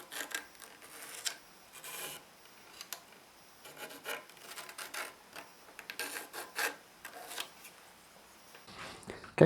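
A pencil scratching a marking line onto a tenor ukulele body of a Firebird-style build, heard as a run of soft, close, dry rasping strokes in short bursts with brief pauses, no voices.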